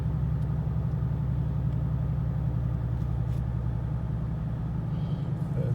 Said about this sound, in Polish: tak auto brzmi w środku